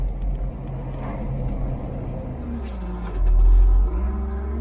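A vehicle rolls past a freshly loaded truck on the approach to a cement plant, a steady low engine rumble and road noise with a louder deep swell of engine as it passes, no talk.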